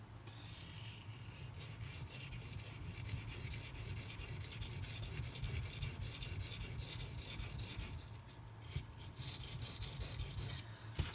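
A Benchmade Mini Crooked River knife blade rubs across a low-grit sharpening stone in a continuous scratchy rasp, steady back-and-forth strokes close by.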